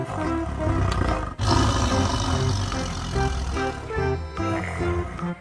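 A tiger roar sound effect plays alongside a toy tiger, loud and sustained over several seconds, with a sharp break partway through and layered growling tones, no talk over it.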